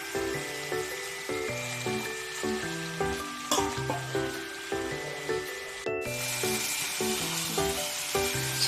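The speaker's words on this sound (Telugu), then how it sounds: "ఆనియన్స్ ఫ్రై అయిపోయాయి కదా, ఇప్పుడు మనం ఇందులోకి చికెన్ వేసేసుకుందాం" Chicken tipped into a hot pan of fried onions, a steady close sizzle and frying hiss with rubbing, scraping stirs, while music plays throughout.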